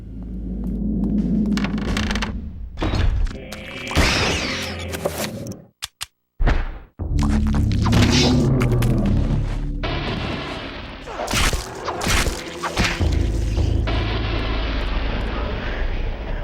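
Rats burst apart in the Eternal Darkness video game amid booming thuds, squelchy bursts and a low throbbing hum, with several loud impacts scattered across the clip and a brief drop to silence partway through.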